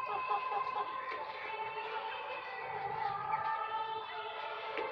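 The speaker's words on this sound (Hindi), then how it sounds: "ये देखिए सारी बनराजा मुर्गी है," Vanaraja chickens on an open-grazing farm, a steady chorus of many soft clucks and chirps at moderate distance, with no talk.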